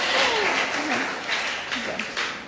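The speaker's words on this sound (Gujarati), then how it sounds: "ચાલો તાળીઓ." Children applaud in a library hall in Navsari, a loud, dense patter of clapping that swells and fades over a couple of seconds while an adult voice talks over it.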